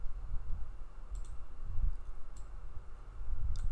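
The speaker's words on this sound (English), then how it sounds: "just right click on it, then click delete" A few sharp computer mouse clicks, right-click and left-click, in a quiet room at even spacing, three crisp taps over faint background hum.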